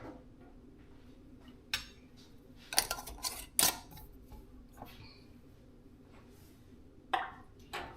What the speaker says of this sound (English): And I'm going to start putting them in my canner.